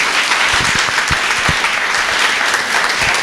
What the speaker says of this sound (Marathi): जोरदार टाळ्या पाहिजेत